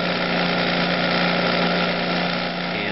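A grinder runs steadily up close, its continuous whirring motor drone holding level while it sharpens a point on the cut end of a finishing nail.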